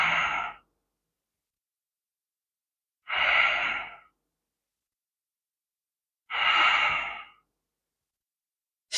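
Slow, deep breaths during a chair yoga session, three long, audible exhalations spaced about three seconds apart, close and clear with silence in between.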